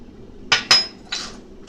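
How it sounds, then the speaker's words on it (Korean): A hammer strikes the end of a round metal pipe in an arc welding workshop, giving three sharp, ringing metallic clinks, two in quick succession and then a slightly softer one, close and loud. "이렇게 망치로 끝을 죽여서"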